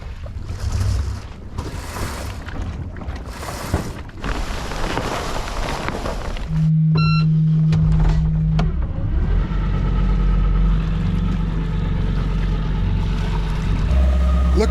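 A sailing boat motoring on its engine near Hvide Sande after the sails come down, a steady low engine drone with wind and water noise, a tonal hum appearing briefly mid-clip.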